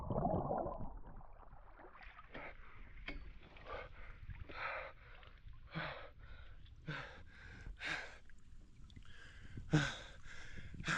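Water splashes and swishes in short repeated bursts as someone takes a dip in cold Lake Flaten at Stora Flatenbadet, heard close and fairly faint, with a few gasping breaths among the splashes.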